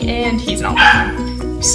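A dog barks and whimpers in short yips off and on in a room, heard under a person's steady talking.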